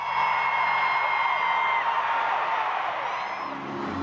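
A concert crowd shouts and whoops in a large venue, a sustained wash of voices with a steady level that eases slightly near the end.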